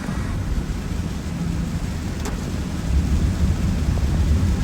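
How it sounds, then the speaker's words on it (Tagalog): Heavy downpour in Hong Kong, a dense continuous roar of rain that swells louder toward the end, with a low rumble underneath and no voices. "Grabe po yung ulan, sobrang lakas."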